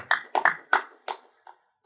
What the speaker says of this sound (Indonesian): Tepuk tangannya kayak nggak semangat karena lagi puasa ya